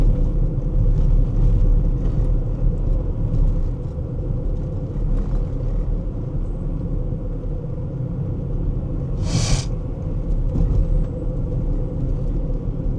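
A car rolls along a rough road in search of potholes, its steady low rumble and road noise loud and continuous throughout, with one brief hiss partway through and no bumps standing out clearly.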